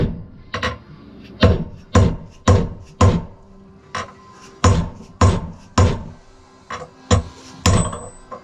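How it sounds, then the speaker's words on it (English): Sharp, evenly spaced metal strikes, about a dozen ringing blows, as a hammer drives a socket against a Suzuki DR 650 rear wheel bearing to seat it, close and loud with short pauses between hits. "just hit your socket on that side and get it leveled off, and then start driving it in"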